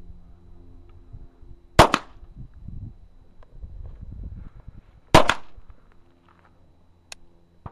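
A gun fired during a safety lesson gives two sharp, loud reports about three seconds apart, with quiet shuffling between them and a faint click near the end.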